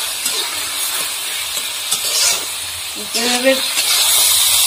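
Water poured into a hot pan of Bengali-style khichuri sets off a loud, steady hiss and sizzle that fills the whole moment, with someone briefly speaking over it.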